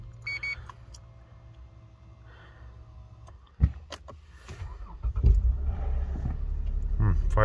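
A Lexus GS300 sedan, left unused for about two weeks, cranks and fires up with a sudden burst, then settles into a steady, close engine idle that gradually grows louder; faint beeps come before the start.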